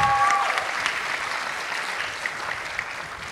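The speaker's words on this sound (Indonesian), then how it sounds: "Kita berikan tepuk tangan bagi setiap yang ada." Audience applause at a youth gathering, heard as a dense, continuous wash of many hands clapping at a steady level, slightly louder at the start and then settling, with no voices standing out above it.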